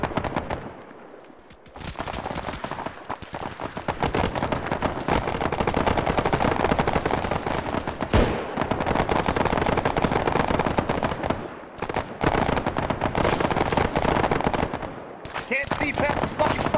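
Arma 3 firefight on Tanoa, loud sustained automatic gunfire in dense rapid bursts with short pauses, close and overlapping shots, while players talk over radio in between.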